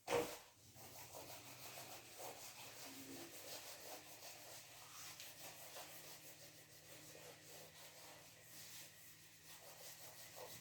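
Soft, steady rubbing of a duster erasing writing from a classroom board, a faint continuous scrubbing after a brief knock at the start, with no talking.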